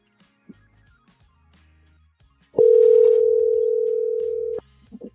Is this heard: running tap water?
no